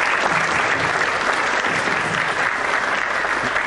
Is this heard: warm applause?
yes